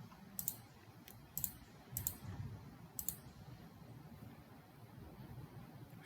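Faint, close computer mouse clicks sound in small single and double bursts, about five times over a quiet hum.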